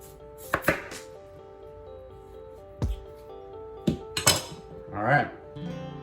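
Knife strokes on a cutting board cut beets into 1/8 to 1/4 inch pieces, giving a few sharp, close taps spaced irregularly, with some clinking and a brief voice toward the end.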